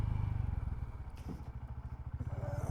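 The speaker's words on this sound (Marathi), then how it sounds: "सो त्याच्यानंतर बाईक अजून स्मूथ चालते आहे" A Honda motorcycle rides along after its first service and oil change, its engine putting out a steady, fairly quiet low pulsing rumble with slight clatter, on a short ride to Gadeshwar near Panvel.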